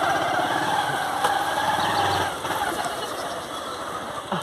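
A motorcycle engine on a dirt trail sputters and revs unevenly as it fails to catch, a steady rough mechanical drone that grows slightly quieter toward the end, with no speech over it.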